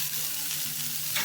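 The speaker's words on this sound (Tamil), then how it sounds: "வெங்காயம் லைட்டாக கலர் மாறுற அளவுக்கு வணக்கிக்கோங்க, ரொம்ப வணக்க வேணாம்." Shallots and curry leaves sautéing in hot oil after mustard seeds have popped, giving a steady close sizzle with soft stirring underneath.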